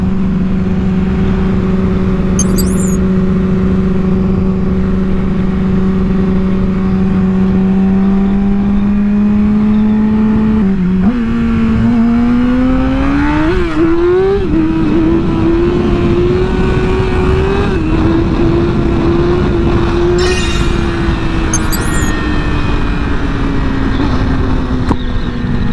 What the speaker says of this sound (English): Oh yeah, had to get some Wheelie action for y'all.